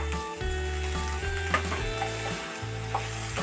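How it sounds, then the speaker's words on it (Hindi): Roughly chopped tomato and onion stir-fry in butter over a medium flame, giving a steady close sizzle with faint stirring scrapes and clicks against the pan. "मीडियम फ्लेम पे हम इसे भी प्याज के साथ स्टर फ्राई कर लेंगे।"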